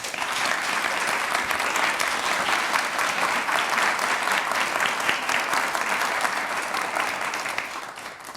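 Sustained applause from an audience at a women's philanthropy event, steady, dense clapping that fills the room at an even level before easing slightly at the end.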